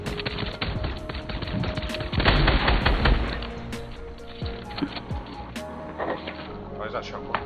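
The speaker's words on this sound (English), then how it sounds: "Fucking thermal assault rifle, bro." Rapid automatic fire from a thermal assault rifle in Fortnite, a dense burst of shots with a loud surge around the middle, mixed with other game sounds and a voice talking over it.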